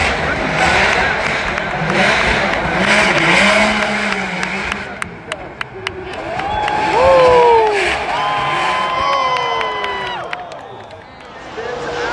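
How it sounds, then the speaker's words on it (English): Drift cars lap the Formula Drift Long Beach street circuit, with engines and tyre squeal rising and falling close by, under crowd cheering and trackside commentary. "Kazuna Taguchi, that lap looks like it kind of checked up a little bit."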